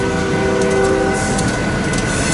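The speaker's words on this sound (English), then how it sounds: "500 is continuing to build a humongous train here now in the yard" A long freight train rumbles through a large Union Pacific rail yard in Fremont, Nebraska, loud and steady, with a sustained horn-like tone in the first half over continuous rolling noise and no voices.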